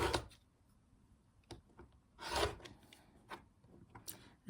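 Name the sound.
trimming excess quilt fabric on a cutting mat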